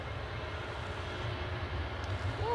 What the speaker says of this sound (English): Oop, plane rolling.